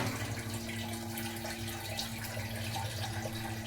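Water is poured steadily into mixed dal in a pot, a continuous close splashing rush with no talk.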